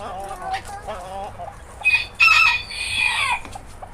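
Porcelain bearded bantam roosters crow loudly and close, while chickens cluck softly beforehand in short, rising calls.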